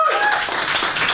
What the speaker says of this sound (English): double round of applause for her for opening the show for us spontaneously